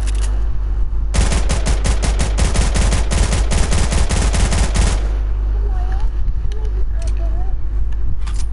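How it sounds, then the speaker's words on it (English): Rapid bursts of automatic gunfire in the video game Fortnite crackle for several seconds, then give way to quieter background noise and scattered sounds. "Can you hear that, Logan, that gunfire?"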